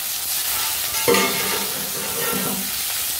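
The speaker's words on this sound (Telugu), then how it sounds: "పోపు చక్కగా దోరగా వేగాలి." Curry leaves and asafoetida crackle and sizzle in hot oil as a tempering fries, with a steady hiss broken by a few sharper spatters and stirring.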